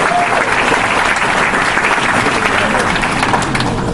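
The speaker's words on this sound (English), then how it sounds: "give her a big round of applause as she comes" Audience applause rises in a steady, dense wash of clapping from a crowd at an event honoring an author, poet and HIV/AIDS activist, continuous and loud throughout.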